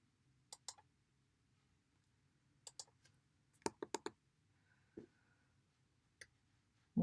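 Sparse, quiet clicks from a computer mouse and keyboard while an emoji is dragged into place. There is a short cluster of taps in the middle and isolated clicks before and after, against a near-silent background.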